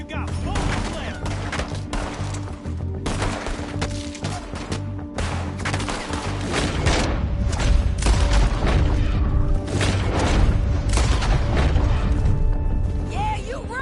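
Gunfire in Red Dead Redemption 2 during a shootout, dense repeated shots and booming impacts throughout, loud and close, with voices shouting amid the fighting.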